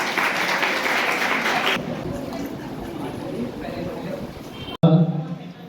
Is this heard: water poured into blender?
no